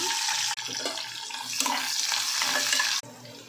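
Sliced onion dropped into heated oil for coriander rice, a loud close crackling sizzle with stirring noises, cutting off abruptly twice.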